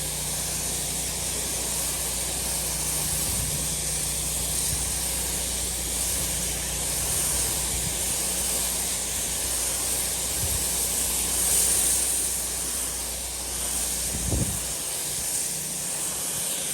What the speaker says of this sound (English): I'll just rinse off this concrete while I'm waiting